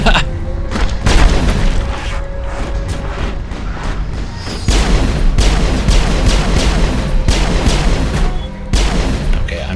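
Heavy, booming gunfire from plutonium rounds in the video game Mass Effect, loud and dense, with rapid overlapping blasts that roll on almost without pause.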